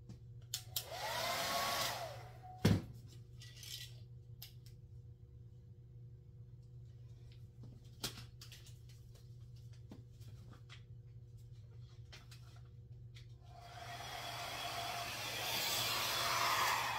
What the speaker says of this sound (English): I'm trying a new dryer to see if this works.